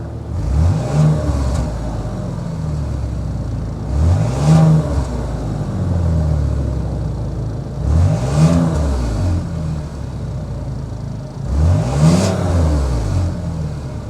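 The 3.6 liter V6 of a 2023 Cadillac XT5 Sport idles steadily from close by. It rises in four evenly spaced revs, each climbing and then falling back to idle.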